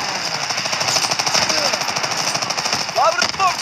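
Rapid sustained machine-gun fire in the Call of Duty WWII video game during a battle, a dense rattling stream of shots with whistling incoming rounds near the end.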